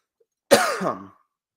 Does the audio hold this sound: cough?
yes